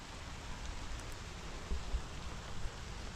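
Rain falls steadily outdoors on a hillside trail above a lake, a soft, even patter with faint occasional drops, heard alone without voices.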